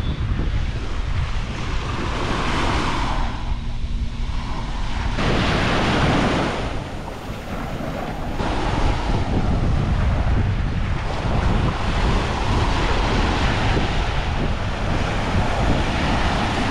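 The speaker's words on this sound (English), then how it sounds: "So I think this is Long Set Beach." Surf breaking on Long Set Beach on Koh Rong island, a steady loud wash of waves with swelling rushes and gusty wind buffeting the microphone, with no voices.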